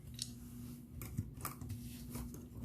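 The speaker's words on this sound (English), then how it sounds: "So I'm gonna have to cut this chain off right here." Small snips of a cutter through a jewelry chain for a beaded necklace, several soft metallic clicks close up over quiet background hum.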